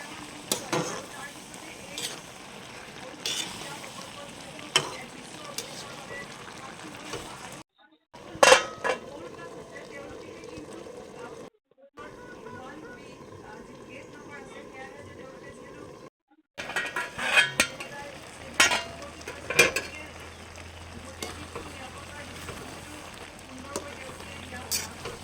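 Bottle gourd and fish are stirred in a pot on the stove, with scattered scrapes and light clinks of a utensil against the pot, broken by brief silent gaps, all close and fairly quiet.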